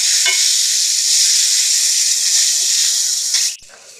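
Mustard seeds, chillies and curry leaves sizzle loudly in hot oil for a Telugu tempering, a steady close hiss that cuts off abruptly near the end, leaving quiet.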